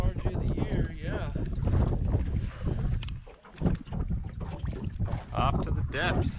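Wind gusts buffet the microphone in a steady rough roar, with water splashing and people talking over it, while fishing for largemouth bass at a reservoir in Idaho.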